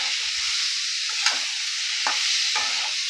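Chicken mince with turmeric powder is stirred in a pan, a constant bright sizzle running throughout with a few brief scraping stirs cutting through.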